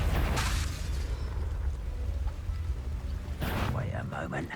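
Two blasting explosions from the Confringo spell in Hogwarts Legacy bracket the moment, a sharp burst at the start and another near the end, each with a booming low rumble and crackling debris, separated by quieter game ambience.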